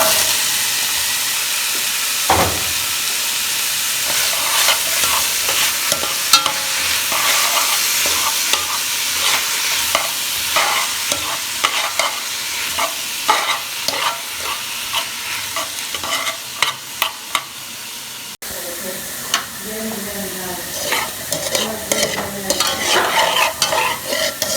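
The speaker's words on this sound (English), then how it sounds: "That's what we're going to fry our freshly chopped veggies in." Freshly chopped vegetables for Jamaican oxtail frying in hot oil, a steady close sizzle and hiss with frequent spoon stirs and scrapes against the pot throughout.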